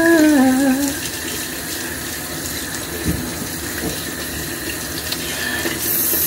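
Water runs steadily from a tap into a bathroom sink, a continuous close splashing hiss with brief hand movements in the stream and a short tonal squeak at the start.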